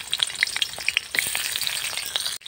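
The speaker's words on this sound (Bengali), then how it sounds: "তেলের মধ্যে দিয়েছি পেঁয়াজ কুচি" Chopped onion fries in hot oil during village-style cooking, a close, crackling sizzle with scattered pops and stirring scrapes that cuts off abruptly near the end.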